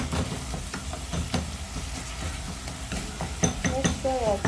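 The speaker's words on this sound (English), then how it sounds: "I'm mixing guys, as you can see." A pot of cooked tomatoes being stirred, with soft scraping and sloshing strokes repeating under a low background hum, faint sizzling throughout and a couple of brighter utensil clinks near the end.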